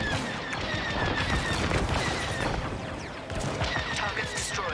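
Starfighter laser cannons fire continuously in Star Wars Squadrons, a dense crackling barrage of rapid shots layered with whooshing streaks and impacts, loud and steady throughout.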